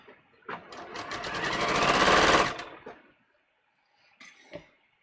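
A sewing machine stitches a French seam at a quarter-inch allowance in one close, rapid burst that builds and stops, followed by a couple of faint clicks.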